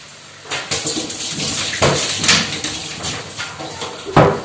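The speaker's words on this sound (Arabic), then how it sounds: "انا غنعمر الماء باش نخلط" Water being poured into a bowl of dry ingredients for dough, an irregular splashing and mixing over a few seconds with bumps and scrapes, close and fairly loud, no voices.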